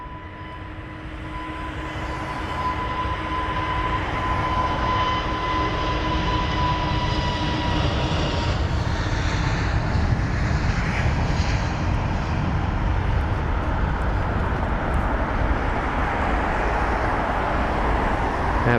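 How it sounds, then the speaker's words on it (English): A British Airways Airbus A320neo jet departs from Heathrow runway 27 right, its engine roar rising from a distant whine with a tonal hum to a loud, sustained broadband rumble that holds steady. "you've got this BA 320 Neo by the looks of it, just departing now as well"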